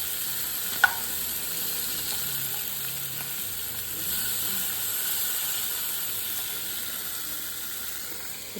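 Large sardines fry until crisp in hot oil, a steady close sizzle and hiss running the whole time, with a single sharp tap near the start and a slight swell midway.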